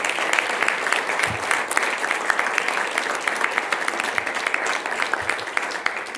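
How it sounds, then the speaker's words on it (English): A school board meeting audience gives a sustained round of applause for three standing guests, dense continuous clapping from a roomful of people, fairly loud and without talk. "if the three of you can stand so we can give you a big round of applause"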